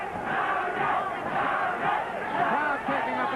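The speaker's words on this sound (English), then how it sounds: "Crowd taking up a chant in support of the champion, Salvador Sanchez." A boxing crowd at a Salvador Sanchez vs Pat Cowdell fight chants loudly and steadily in support of champion Salvador Sanchez, a dense rhythmic roar of many voices.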